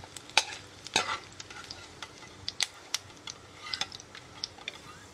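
Chopped onion frying in ghee for a rice and meat biryani, with a quiet ongoing sizzle broken by sharp clicks and taps of stirring, no talk.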